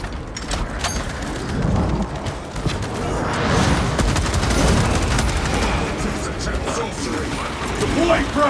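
A weapon reload in the Space Marine 2 video game: quick mechanical clacks and ratcheting clicks cut through a dense, loud mix of gunfire and battle noise.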